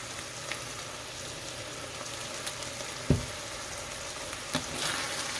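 Ground beef crepe filling seasoned with pepper, paprika and salt sizzles and fries in a pan with a steady, soft crackle, a few louder taps and stirring knocks breaking through, close and quiet.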